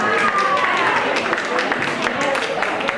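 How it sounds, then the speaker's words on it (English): Guests at a bar mitzvah reception give a round of applause, a loud, continuous wash of clapping from a crowd with voices talking over it. "Give her a huge round of applause"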